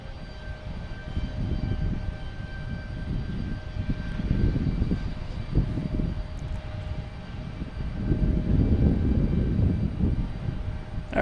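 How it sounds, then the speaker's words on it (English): A United Airlines jet heading to San Francisco takes off from Boston Logan Airport, its engine roar a broad steady rumble that swells louder toward the end, heard from a distance with no talking. "United Airlines taking off"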